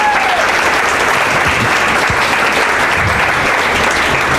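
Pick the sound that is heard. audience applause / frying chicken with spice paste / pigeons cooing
audience applause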